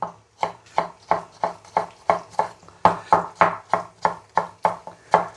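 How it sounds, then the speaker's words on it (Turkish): Knife chopping two tomatoes on a cutting board for a creamy Italian-style pasta, a steady run of about fifteen crisp, evenly spaced cuts, close and clear with no talking. "2 adet domatesim var. Bunları da doğruyorum."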